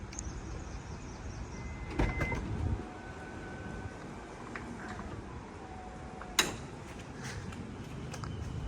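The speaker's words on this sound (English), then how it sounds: "This car does get the powered sliding door function by using the buttons on the key fob." Powered sliding door on a 2020 Toyota Vellfire 2.5Z MPV, triggered from the key fob. A low, steady motor hum runs throughout, with a clunk near the start and a sharp latch thud toward the end.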